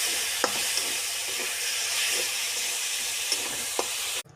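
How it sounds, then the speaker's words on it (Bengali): Red amaranth greens fry with tamarind water in a pan, producing a bright continuous sizzle and hiss with occasional clicks and scrapes, fairly loud and cut off abruptly at the end, with no talking. "লাল শাক ভাজা হয়ে গেছে।"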